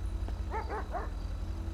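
A police K9 dog in the GTA 5 video game gives three quick, faint yips or barks in a row, far off under a steady low background hum.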